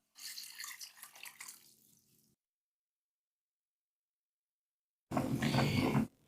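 Water pouring into a soup pot, one liter added over chicken, onions, carrot, egg and potatoes; a close splashing stream fades out, followed after a silence by another short burst of pouring.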